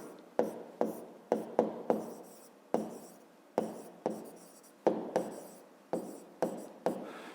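A pen scratches on paper in short, separate strokes, a dozen or so quick scribbles spaced irregularly, close and quiet in an otherwise silent room.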